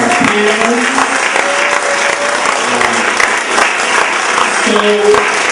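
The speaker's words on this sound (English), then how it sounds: "can we give another round of applause for our panelists?" Loud, continuous applause from the audience at a film screening and panel event honors the panelists, dense clapping close by with a few voices calling out over it.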